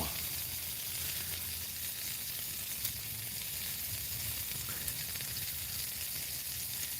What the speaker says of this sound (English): I'm going to throw the bacon back on now.